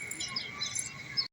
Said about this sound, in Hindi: और ये साथ वाले कबूतर रखे हुए हैं।